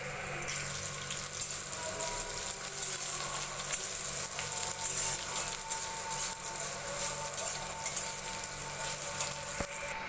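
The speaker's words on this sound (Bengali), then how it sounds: "ওই তেলের মধ্যে পেঁয়াজ দিয়ে দিচ্ছি পেঁয়াজের মধ্যে আমি একটু গোটা জিরা দিয়ে দিচ্ছি" Onions and whole cumin seeds frying in hot oil in a home kitchen, a continuous close sizzle with steady crackle and a few faint knocks, no talking over it.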